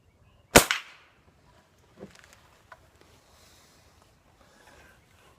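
Crosman air rifle firing a single non-lead pellet indoors: one sharp, loud crack followed by a couple of faint clicks and quiet room noise.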